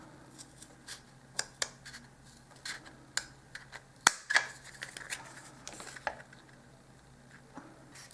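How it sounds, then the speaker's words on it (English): Scissors cutting paper along a marked guide line while making a dollhouse miniature BBQ grill, heard as a string of soft, quiet snips and crisp clicks at an irregular pace, with a sharper snap near the middle and no talking. "Now I am going to cut on this line with my scissors."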